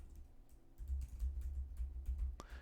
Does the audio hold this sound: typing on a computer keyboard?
yes